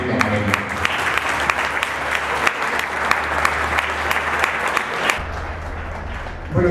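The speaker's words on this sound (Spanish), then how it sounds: "recibamos con un fuerte aplauso al arquitecto José Armando Montiel Camarena" An audience bursts into steady, loud applause to welcome an architect to the stage at a university lecture, dense clapping with a few sharper claps, ending abruptly.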